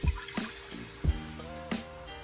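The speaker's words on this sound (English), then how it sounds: "We're gonna pour that mixture in the pot." A sesame sauce mixture is poured into a cooking pot with a soft, faint liquid splash and trickle, while music plays in the background.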